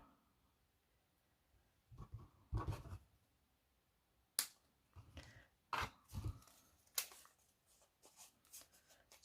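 Scissors trim paper for a handmade frosted gingerbread card, giving a few short snipping and rustling bursts scattered between quiet pauses, close and fairly faint, with no one talking.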